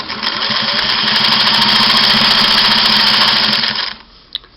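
Singer 503A sewing machine stitching satin, a loud close motor hum with a rapid rhythmic needle clatter. It runs steadily for about four seconds, then stops, and a faint click follows.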